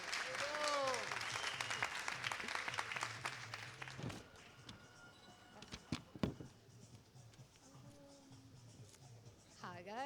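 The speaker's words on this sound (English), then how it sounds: "A big applause for Spidolo." Applause from a small audience at a tech camp event greeting a speaker; scattered claps with voices talking over them, fairly faint, thinning out toward the end.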